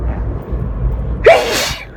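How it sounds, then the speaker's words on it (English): A single sharp sneeze bursts out near the end, close and loud, inside a car while driving, over a steady low engine and road rumble. "I just sneeze so badly."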